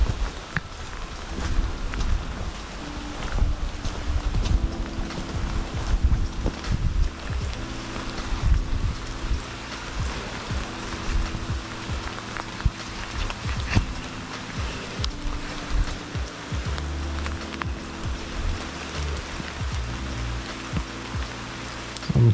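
Steady rain falls across an outdoor nature spot, a broad constant patter close around, with faint crunching footsteps and low rumbling under it throughout; no one speaks.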